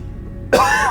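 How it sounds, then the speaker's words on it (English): A single sharp cough bursts out close to the microphone midway through, following a quiet stretch of faint background hum, with no talk alongside. "Excuse my cough."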